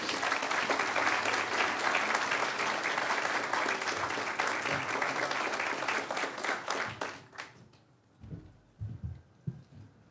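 An audience in a large hall applauds Dick Thompson, Syracuse University trustees chairman, at the opening celebration of Dineen Hall; steady dense clapping fades out after about seven seconds, followed by a few scattered claps and quiet sounds.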